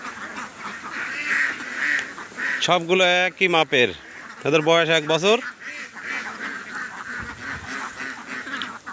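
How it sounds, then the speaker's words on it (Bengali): A flock of year-old egg-laying ducks for sale in Munshiganj, loud nasal quacking in two bursts near the microphone, with someone talking over and between them. "এই আমার হাঁস, হাঁসের ওয়েটও মোটামুটি ভালো। আবার হাঁসগুলো দেখেন কত সুন্দর"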